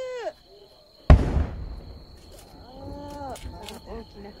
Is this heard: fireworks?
yes